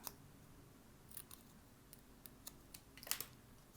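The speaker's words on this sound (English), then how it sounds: "Use my little scissors." Small scissors snip paper quickly a few times close by, crisp little cuts spaced irregularly in a quiet room.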